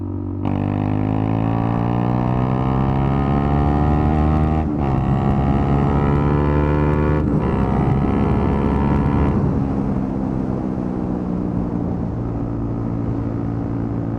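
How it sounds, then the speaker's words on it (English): A loud, steady motorcycle engine with an aftermarket exhaust drones with a deep harmonic growl, pitch rising and falling, briefly cutting out twice before easing into a rumbling idle. "So putting an aftermarket exhaust on,"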